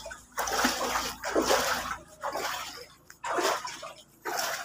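Someone wades through deep flood water, each step churning a loud, close splash in an uneven rhythm of about five surges separated by brief lulls, with no one talking.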